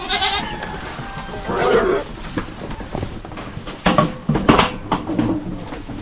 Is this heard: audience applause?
no